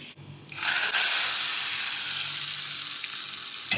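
Fried tempering poured into chutney hits with a sudden loud sizzle after a short quiet moment, then a steady hissing crackle continues close up without talk.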